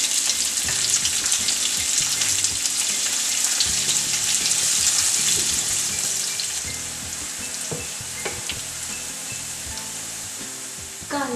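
Chopped onions and cinnamon sizzle steadily in hot oil in a pan as the base for pav bhaji, a dense continuous frying hiss with small crackles and occasional stirring clicks, close and fairly loud throughout.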